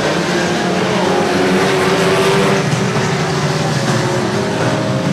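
Ford Cortina banger race cars lap an oval track, a loud continuous blend of engines droning and revving together from moderate distance, with no talk.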